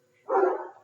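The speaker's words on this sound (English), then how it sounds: "That was my dog in the background." A dog barks once in the background, a single loud, fairly close woof with no talk over it.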